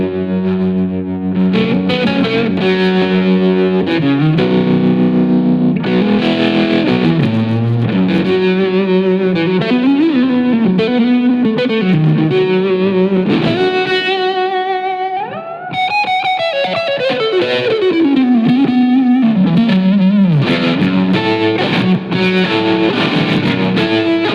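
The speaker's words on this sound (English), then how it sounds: "So I've just put a bit of tremolo on it to give you that kind of effect" Electric guitar through a Yamaha THR amp on a modded JMP 100 model with tremolo, playing loud, continuous distorted notes and bends with pulsing effects and no talk.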